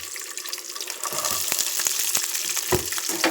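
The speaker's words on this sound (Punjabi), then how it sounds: "ਹੁਣ ਆਪਾਂ ਇਹਦੇ ਵਿੱਚ ਛਿੱਲਿਆ ਹੋਇਆ ਜਿਹੜਾ ਪਿਆਜ਼ ਲਾ ਕੇ ਐਡ ਕਰਾਂਗੇ" Peeled garlic cloves dropped into hot oil for a winter garlic pickle, giving a steady close sizzle with brief crackling pops and clinks throughout.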